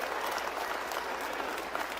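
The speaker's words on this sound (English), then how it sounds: "Give him a big round of applause for the anti-woke General." Steady crowd applause for a general being introduced at a Canadian political rally, dense and continuous clapping throughout with no clear break.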